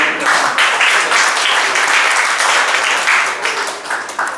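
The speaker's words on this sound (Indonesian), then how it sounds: "Kita beri aplaus untuk Bapak Ibu." Audience applause fills an anniversary ceremony at a policy institute's celebration, a steady dense wash of many hands clapping loudly for the full span without a break, with no speech over it.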